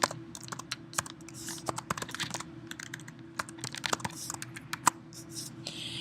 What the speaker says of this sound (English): you can go in and you can type.